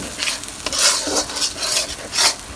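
Bay leaves dropped into hot oil for a Bangladeshi home-style curry, giving a steady crackling sizzle with stirring scrapes and bursts of spattering, close and alone.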